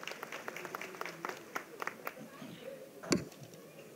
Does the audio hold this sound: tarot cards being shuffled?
no